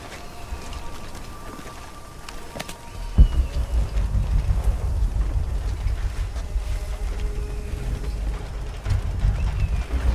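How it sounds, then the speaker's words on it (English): Steady video game rain patters and hisses continuously, with a sharp knock partway through and a heavier wash of low rumble afterward; no voices. "This rain's not natural."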